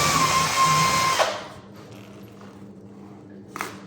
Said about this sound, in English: I go up in size with the drill bit so it doesn't break the laminate